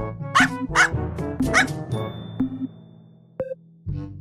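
A Pembroke Welsh Corgi gives a quick run of sharp, high yapping barks, then a few sparser yips with brief pauses between them, loud and close.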